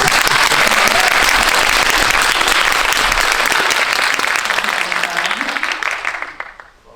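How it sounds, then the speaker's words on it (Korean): A large audience applauds loudly and steadily at a Korean film Q&A screening, dense clapping holding for about six seconds before tapering off at the end. "한번 크게 박수."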